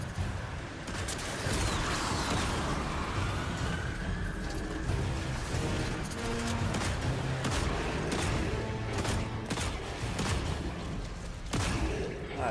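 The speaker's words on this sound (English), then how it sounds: "I love a good hand cannon." Heavy hand cannon gunfire in Destiny 2: repeated sharp, booming shots in irregular bursts over a dense, rumbling background of effects.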